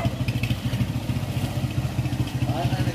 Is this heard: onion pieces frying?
no